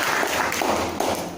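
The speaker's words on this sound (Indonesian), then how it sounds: "Tepuk tangan dulu buat Pak Raymond." An audience claps for Pak Raymond at an indoor network-marketing seminar, a dense, steady patter of many hands filling the short moment without a break.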